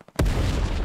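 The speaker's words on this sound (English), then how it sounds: "Artillery!" Artillery fire in the tactical shooter Hell Let Loose: a single loud, close explosive boom lands suddenly after a quiet moment, followed by a sustained rumbling roar and debris noise that continues to the end.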